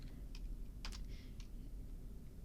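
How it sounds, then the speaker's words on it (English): Quiet keystrokes on a computer keyboard, a few faint, scattered taps over low room hum with no voices. "you can start typing the name in the field"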